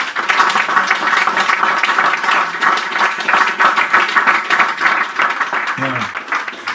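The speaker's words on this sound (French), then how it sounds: "Vos applaudissements me vont droit au cœur" Audience applause at a village festival concert, a steady wash of many hands clapping throughout, fairly loud and close, with a brief voice near the end.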